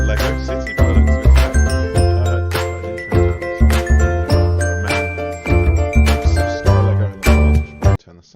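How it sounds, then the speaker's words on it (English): A bright, tinkling electronic notification chime of the bing-bong kind rings in repeated chord strikes over about eight seconds, loud and close, with no voice over it. "I'm already getting things bing-bonging in. I'm not sure what that bing-bong was"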